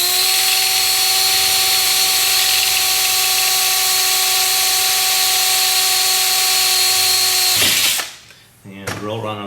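A power drill with a long bit whines steadily at high speed for several seconds, drilling aircraft stabilizer ribs next to a cleco, then stops abruptly, followed by a few faint clicks and handling noises.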